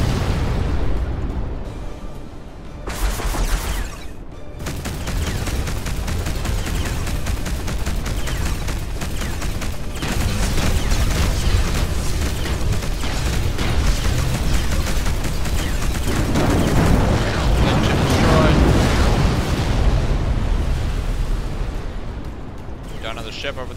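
Rumbling explosions and heavy blasts roll on almost without a break as an enemy spaceship is destroyed in the space combat game Between the Stars, loud and dense, with a voice talking over part of it.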